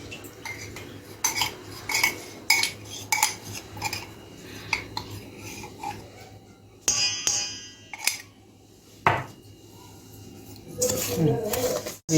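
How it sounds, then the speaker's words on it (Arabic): A spoon stirs basbousa batter mixed with warm melted butter and honey, giving repeated clinking scrapes against the bowl in a steady rhythm, close and fairly loud, with someone talking over parts of it. "قلبيه من المعلقة اهو. قلبيه كويس بقى."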